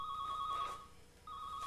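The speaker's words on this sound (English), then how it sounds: "Are reporters calling here, too? It's been ringing off the hook" A telephone bell rings in two bursts separated by a short pause, loud and close, with a steady bright trill and no talking.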